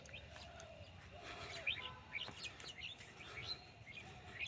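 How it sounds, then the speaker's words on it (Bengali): Doves call softly from nearby in an outdoor field setting, with faint repeated chirps and coos over a low background hiss, no talking. "এই যে উগাল দিতে আছে ঘুঘু পাখিরা"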